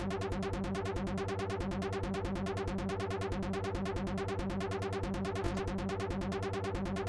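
A fast, steady synthesized pattern of evenly spaced sixteenth notes repeats throughout, quiet and mechanical with no voices.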